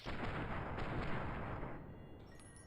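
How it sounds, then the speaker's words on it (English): A gas bomb goes off in the video game Fallout New Vegas as a broad, rumbling blast that holds for about two seconds and then fades into a low hiss. "Oh, that's a gas bomb."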